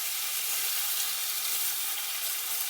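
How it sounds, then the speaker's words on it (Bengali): Flat beans and potato pieces sizzle in hot oil in a pan, a steady, close, even frying hiss throughout with no voices. "একসঙ্গে দিয়ে দেবো, শিম আলু ভেজে নেব।"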